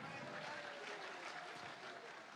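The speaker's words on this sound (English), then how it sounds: "Y'all give Roger a round of applause." Live concert audience applauding, a steady broadband wash of clapping filling the room at fairly low level throughout, with no talk over it.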